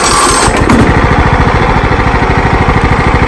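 A lawn mower engine runs loud and close, with a rapid, even chugging pulse and a rough mechanical rattle over it throughout.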